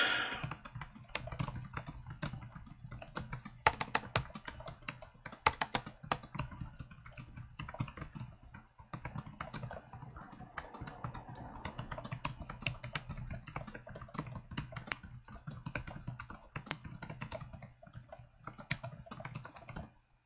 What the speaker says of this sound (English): typing in QWERTY for 20 minutes for no reason